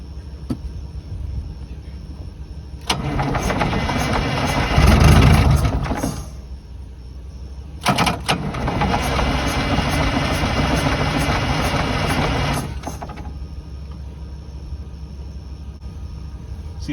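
Old Detroit diesel engine in a tour bus, fed ether, catching in two loud rumbling bursts of a few seconds each that die out, with cranking noise between.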